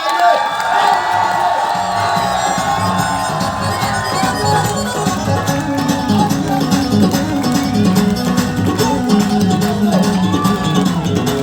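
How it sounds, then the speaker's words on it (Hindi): A large audience at a motivational gathering held on 15 August 2021 cheers, shouts and whoops loudly and steadily for the full stretch, a dense wall of crowd noise with scattered whistles and claps. "खड़े होकर पूरे जुनून के साथ में हल्ला मचा के सीटी बजा के जोरदार ताली बजाइए"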